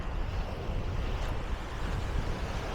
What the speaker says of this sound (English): the ocean, the waves crashing against the breakwater here